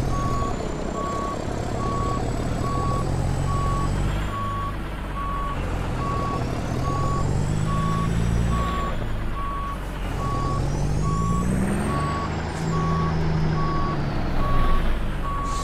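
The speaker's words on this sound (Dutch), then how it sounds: "met die grote Amerikaanse vrachtwagens is achteruit rijden wel een heel stuk lastig hoor" Reversing beeps from a big American truck in Euro Truck Simulator 2, a steady run of high repeated tones over a loud engine drone for the whole stretch, with pitch swells as the engine works.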